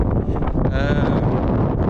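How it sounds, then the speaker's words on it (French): Heavy wind on Hawaii's Big Island buffets the microphone, a steady low roar and rumble that fills the whole clip, with faint whistling tones near the middle. "Il y a énormément de vent, comme vous pouvez sûrement l'entendre"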